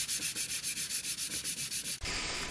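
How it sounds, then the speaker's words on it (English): Sandpaper scrubs back and forth over a plastic car bumper in quick, even strokes, a rhythmic raspy rubbing close to the microphone that stops abruptly near the end. "After sanding with 40 grit sandpaper, you will want to then sand with 200 grit sandpaper to remove any large scratches"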